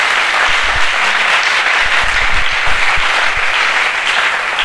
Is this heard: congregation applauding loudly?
yes